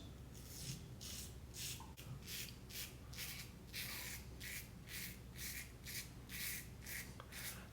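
A Valynor razor shaves across the grain, its blade giving rhythmic scratchy rasping strokes roughly twice a second, close and soft, with no talking.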